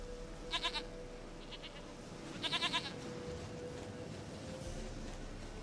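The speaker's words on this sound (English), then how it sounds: "Goat of mine, dearest, sweetest goat." Goat bleating in The Witcher 3: Wild Hunt, two clear bursts of wavering bleats about two seconds apart, moderately loud over a steady hum of game ambience, with no talking.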